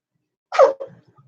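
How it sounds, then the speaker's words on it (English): A single sharp sneeze bursts out close by in a quiet indoor sewing space, followed by a brief, softer exhale that trails away. "That was a big sneeze."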